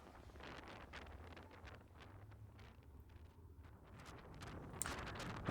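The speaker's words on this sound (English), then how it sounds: "I'm just getting utterly battered by the wind" Strong wind roars steadily across the microphone of a flying Avata 2 drone, a continuous rushing buffeting that swells slightly toward the end, with no talking.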